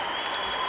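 Crowd in an arena applauding a gymnast's bronze medal win at an artistic gymnastics world cup event final, a dense, even wash of clapping throughout the short moment.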